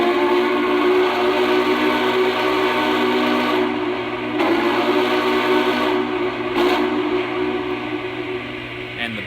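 A Lionel Vision Line Union Pacific Big Boy model train sounds its steam whistle in long sustained blasts with brief breaks, the tones bright and fairly loud over a constant mechanical hum.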